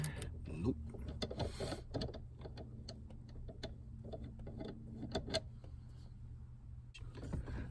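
Pliers work the steering lock shaft on a BMW E39 5 Series, making a string of small metallic clicks and ratcheting ticks at close range, with faint low talk in the background.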